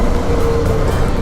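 An NK 150 dirt bike being ridden, a loud, close, steady engine drone with rushing wind noise over a short stretch, no pauses or gear changes.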